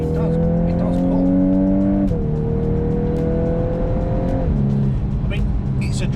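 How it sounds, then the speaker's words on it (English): A Volkswagen Golf R, MK8 generation, pulling hard off a roundabout on a dry road, its engine droning loud and steady from inside the car as the pitch climbs through two gear changes. "I've just pinned it off that roundabout and the traction control light just flashed up"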